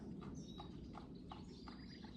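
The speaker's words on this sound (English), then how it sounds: "a horse got loose and it took off from the hills and it came here" Hooves of a loose horse clip-clop in a steady rhythm outdoors near a garden, faint and a little distant, with birds chirping in the background.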